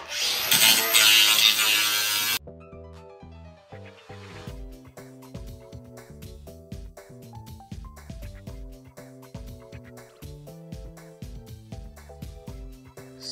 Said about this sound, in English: I have flapper wheels.